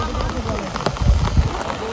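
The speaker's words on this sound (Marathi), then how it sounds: "आणि पाऊस तर चालूच आहे आपला." Steady rain falling outdoors during the monsoon, a continuous dense patter and hiss that stays the same throughout, with a few louder thuds at times.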